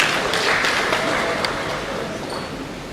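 A round of applause from the audience at a university in-house lecture in Nigeria, a steady crowd clapping wash with voices talking underneath.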